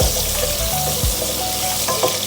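Chopped onions sauté in a hot pan for arroz caldo, a steady close sizzle and crackle with a few soft scrapes of stirring, no talking.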